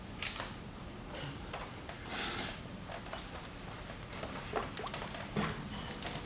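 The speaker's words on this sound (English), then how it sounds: "you just want to rub it in small circles" Sealant rubbed by hand in small circles onto a plastic car headlight during a restoration, giving quiet, soft scuffing and swishing that rises and falls in short bursts with no talking.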